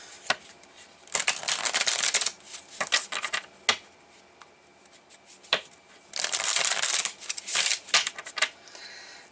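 Tarot cards are shuffled in two close, crisp bursts of riffling and flapping, with scattered single card snaps and taps between them in a quiet room.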